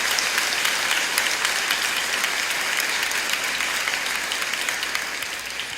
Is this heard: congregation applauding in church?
yes